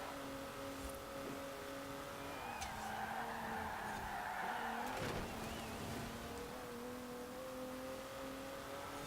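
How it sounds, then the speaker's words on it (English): A car in Forza Horizon 4 drifts with a steady engine drone and a brief rising tire squeal midway, racing at a constant moderate level. "Shouldn't really be drifting while this car's right behind me."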